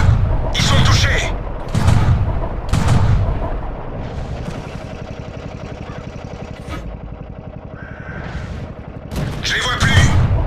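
Tank cannon fire in the video game World of Tanks: heavy booming shots, three in quick succession and more near the end, over a rumbling engine drone with a voice speaking in the gaps.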